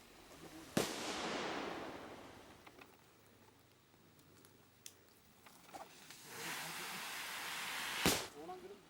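Firecrackers set off by a rapid response team to drive a wild elephant back into the forest in Munnar, two sharp loud bangs several seconds apart with crackling and rustling between them.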